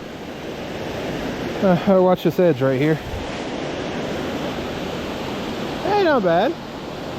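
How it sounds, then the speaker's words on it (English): A waterfall on the Middle Creek Falls hiking loop keeps up a steady, broad rush of falling water throughout, loud and close, with someone talking briefly over it twice. "waterfall number one wasn't real far away"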